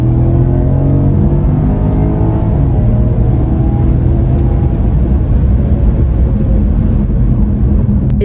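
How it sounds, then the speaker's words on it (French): A Porsche Panamera 4S engine drones loudly and steadily as it accelerates, a deep rumbling tone with rising harmonics, heard from inside the car. "j'espère qu'on va bien entendre à la caméra le son du moteur"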